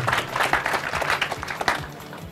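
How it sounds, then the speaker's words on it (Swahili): A crowd of club members in Tabora claps for a few seconds, a dense close patter of many hands with no voices on top. "Jipigieni makofi tena wana Tabora."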